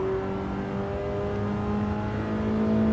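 Old sports sedan engine, a BMW E30 M3 Evo or Mercedes 190E 2.5-16, droning steadily from inside the car and building slightly toward the end, with no voices.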